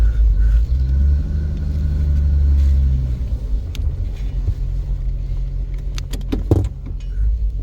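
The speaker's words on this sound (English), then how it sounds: "Nothing like a cold day to start a 70-year-old engine." A 1951 Chevrolet Bel Air with a 3-speed manual and overdrive idles on a cold day, a steady low rumble that swells slightly then settles, with a few sharp clicks and rattles near the end.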